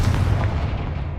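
Confringo fire spell cast in Hogwarts Legacy, a dense low rumbling blast that booms and carries steadily through the short burst, loud and close with no talk over it.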